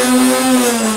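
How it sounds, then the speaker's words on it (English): A steady high-pitched motor whir hums continuously and loudly as a Nerf Elite Infinus toy blaster's flywheel spins up. "and actually revs up the flywheel, so you need holding until you get that"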